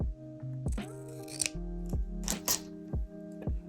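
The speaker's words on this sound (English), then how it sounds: "Cut off the frayed part." Scissors snip off the frayed end of a ribbon with several crisp, close cuts in steady rhythm, over a sustained tonal hum in the background.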